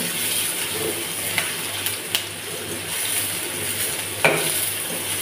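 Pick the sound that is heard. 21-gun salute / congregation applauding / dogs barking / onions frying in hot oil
onions frying in hot oil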